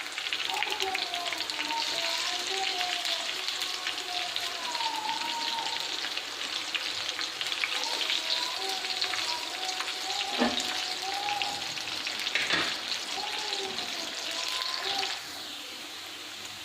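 Chicken tikka fries gently in oil on a tawa over a low flame. A steady, moderate sizzle hiss runs under a talking voice, with a couple of faint clicks, then drops quieter near the end.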